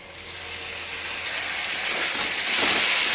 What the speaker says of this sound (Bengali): টমেটো পেস্ট দিয়ে আরও ভালোভাবে নাড়াচাড়া করে এটাকে ভাজতে হবে